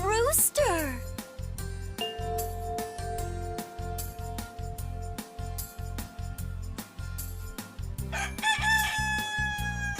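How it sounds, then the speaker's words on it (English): A rooster crows loudly at the start, followed by steady musical accompaniment, with a second crow rising near the end. "I know, that's a rooster."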